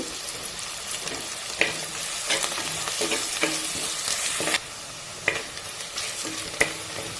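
Chopped onion and green chillies frying in a pan, a steady close sizzle broken by sharp scrapes and taps as a spoon stirs every second or so, with no voices.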